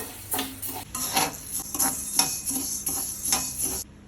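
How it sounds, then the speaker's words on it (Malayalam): Green gram (mung beans) being dry-roasted in a hot pan, stirred with a utensil that gives repeated scraping, rattling strokes at close range, with a faint sizzle between them and no talk. "ഇനി വറുത്തെടുക്കാം കേട്ടോ."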